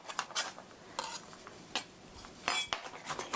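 A knife chops cabbage on a cutting board in a quick, irregular run of soft close knocks with brief gaps, alone and fairly quiet.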